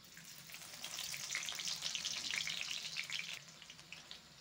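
Onion frying in oil in a kadhai, a soft steady crackling sizzle that swells then eases, faint and close with no voices.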